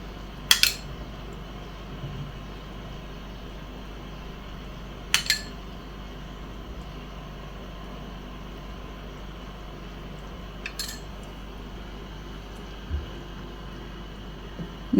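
A spoon clinks sharply against a pot three times, spaced several seconds apart, while beaten egg is poured little by little into chicken soup; the kitchen is otherwise quiet.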